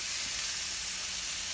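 Burger patties and bacon sizzle on a BBQ grill, a steady, dense hiss of frying fat that stays even and close throughout, with no voices.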